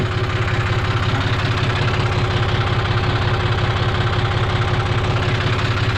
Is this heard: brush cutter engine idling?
yes